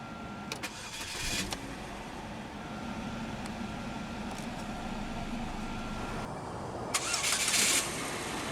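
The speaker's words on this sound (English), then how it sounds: "let's go ahead and start the engine" A 2006 Chevrolet HHR 1LT engine cranks and catches near the start, then settles into a steady idle; a brief rev or second burst rises near the end.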